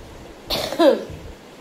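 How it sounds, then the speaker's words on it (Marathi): A single short, harsh cough close to the listener, ending with a brief rasp in the throat, then quiet. "खोकला तर अजून बसलाच नाही माझा"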